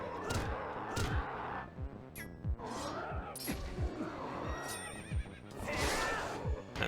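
A horse whinnies repeatedly in the video game The Legend of Zelda: Twilight Princess, loud shrill neighs mixed with hoof clops, thuds and combat impacts.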